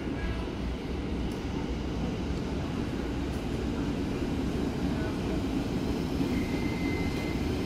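KRL commuter train 6017, bound for Manggarai, running through a busy Jakarta station: a continuous low, rumbling roar that holds steady and fairly loud for the whole stretch, with no breaks.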